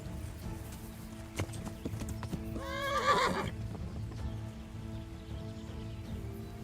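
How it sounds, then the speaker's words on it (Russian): Horse from the Kingdom Come: Deliverance video game, hooves clopping in an uneven rhythm before one loud neigh in the middle, with steady rain pattering on a surface underneath throughout. "Лошадь."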